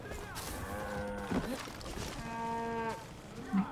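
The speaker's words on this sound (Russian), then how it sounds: "Бешеные коровы все заборы сметают" Cattle in the video game Far Cry 5 moo in long, drawn-out calls, several lowing bellows rising and falling across the scene with game sounds beneath, no speech.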